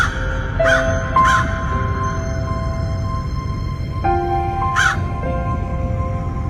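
A crow caws three times in sharp, rasping bursts against a steady background hum, loud and fairly close.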